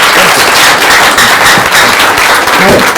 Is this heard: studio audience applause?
yes